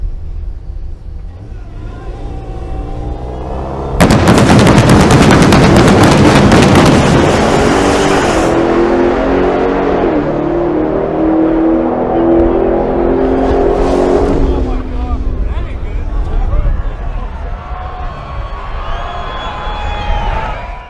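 A Dodge Challenger SRT Demon 170 makes a quarter-mile drag strip launch: a loud engine roar erupts partway in, then a sustained high-revving pull that gradually fades, with crowd noise faintly beneath.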